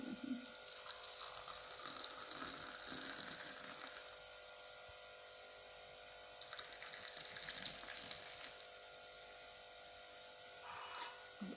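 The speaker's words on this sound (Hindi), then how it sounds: "तो अब मैं इसे सर्विंग मग में निकालती हूँ।" Kulfa Kashmiri chai is poured into serving mugs in two soft, faint streams of liquid with a quiet gap between them and no talking.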